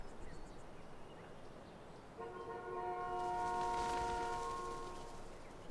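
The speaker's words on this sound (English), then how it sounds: "Honk the horn." A truck horn sounds in the video game Life is Strange: Before the Storm, one long sustained blare swelling in over quiet outdoor ambience and holding for several seconds before cutting off.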